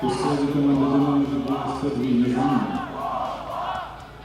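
Football fans at their home stadium roar and chant together, a massed crowd voice with rising and falling swells that carries on continuously.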